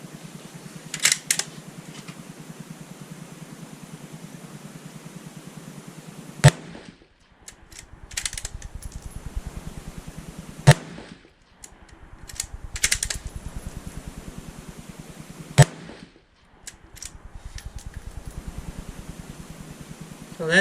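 Six sharp rifle shots from a bolt-action gun with cheap ammunition fire at a target, each a loud isolated crack separated by pauses of several seconds, with quieter bolt clicks and handling noise between them.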